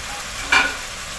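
Ginger-garlic paste fries in oil in a pan for an arvi gosht mutton dish, a steady, close sizzle broken by a single brief scrape.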